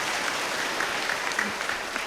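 A crowd at the inauguration of a new Catholic church claps steadily, a dense, even patter of many hands filling the whole moment.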